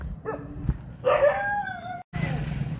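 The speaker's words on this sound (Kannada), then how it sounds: "ನಾಯಿ ಎಲ್ಲ ಕಡೆ ಅದಾವ" A dog gives a few short yelping barks and a drawn-out whine, close by, with a brief silence near the end.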